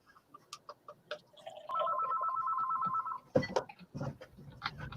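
A telephone bell rings in one sustained, steady electronic tone lasting over a second, loud and close, with scattered clattering and room noise around it.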